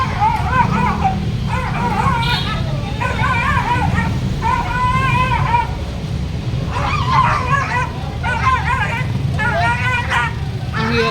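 Dogs bark, yip and whimper during a city pound rescue operation, repeated bursts over a constant rumble of outdoor noise and voices.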